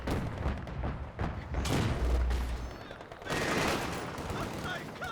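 Machine gun fire in the WWII strategy game Company of Heroes 2, loud rattling bursts and booming shots layered in a chaotic battle mix, with a heavy low thump midway and a rising rush of gunfire near the end.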